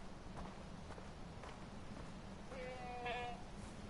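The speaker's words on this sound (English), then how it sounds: "Shh, be quiet, goat." A goat bleats in Far Cry 4, a short wavering cry over steady game ambience and soft footsteps, moderately close.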